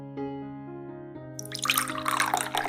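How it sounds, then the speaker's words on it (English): Boiling water, about 500 milliliters, is poured over chopped banana peels in a container, starting with a steady tonal trickle and swelling into a louder, broad splashing rush for the final second. "we add about 500 milliliters of boiling water"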